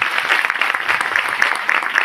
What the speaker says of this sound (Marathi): सर्वप्रथम आपण त्यांना एकदा जोरदार टाळ्या मॅडमसाठी झाला पाहिजे